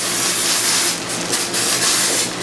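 A loud, close hiss of cooking oil spray from an aerosol can runs continuously for a couple of seconds, briefly easing before surging again.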